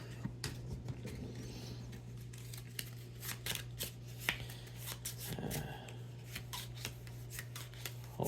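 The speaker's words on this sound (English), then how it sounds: "I still need to shuffle their cards" Cards for the Finspan board game being shuffled by hand in a quiet room, heard as soft, irregular riffling and rubbing strokes with a low steady hum underneath.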